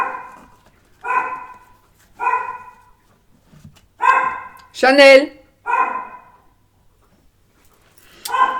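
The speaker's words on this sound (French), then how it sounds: "il y en a un qui aboie, il y a tout le monde qui aboie" A dog indoors barks loudly in a steady series of about seven sharp barks, with a brief whining yelp partway through; a voice calls out once.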